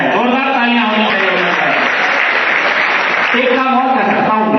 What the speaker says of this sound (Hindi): भाई अरुणिमा सिन्हा जी ने कर दिखाया है, जोरदार तालियां होनी चाहिए।